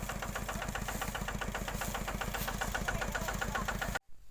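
A farm vehicle's engine runs steadily at a field where krachiao is grown, with a regular rumbling pulse that cuts off abruptly near the end.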